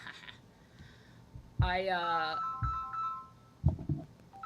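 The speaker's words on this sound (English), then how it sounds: "I'm getting a phone call." A phone rings for an incoming call, a short warbling electronic ringtone burst amid quiet room noise and brief bumps, with a person's voice nearby.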